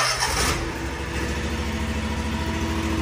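A Ferris ISX 800 mower with an EFI engine cranks over in a brief loud burst, then settles into a steady, close, rumbling idle with no talking.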